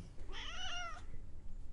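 A cat gives one clear, drawn-out meow lasting under a second, close and fairly loud against a low background hum, with no one talking.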